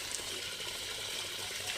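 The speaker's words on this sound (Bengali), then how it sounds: "জল ভরতে হবে এখন" Water runs steadily from a tap to fill a container at home, a constant hissing gush without pauses.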